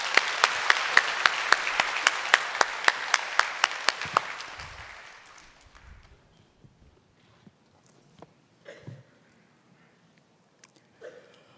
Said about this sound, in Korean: 나오실 때 우리 박수로 환영해 주시기 바랍니다